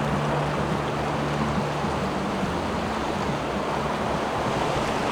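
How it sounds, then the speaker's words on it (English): Fast-moving mountain river water rushes in a steady, dense roar, loud and continuous throughout, with no pauses. "Water's moving real fast out through there"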